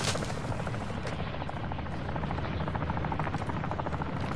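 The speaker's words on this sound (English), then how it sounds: "enemy attack helo is heading your way." An enemy attack helicopter in Call of Duty Modern Warfare 2 makes a loud, close, continuous rotor thrum that holds steady for the whole stretch, with faint gunfire-like crackle mixed in.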